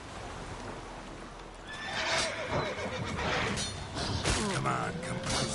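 Roach the horse in The Witcher 3 whinnies loudly over the steady clip-clop of galloping hooves, the neigh rising and trailing off while a voice talks alongside.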